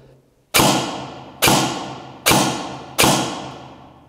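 A Begadi Sport Mod 5 A7 PDW airsoft SMG fires four sharp, loud single shots at roughly even intervals, each a crisp close thump with a short decaying tail.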